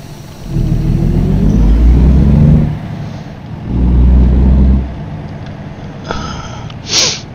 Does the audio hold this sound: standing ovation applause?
no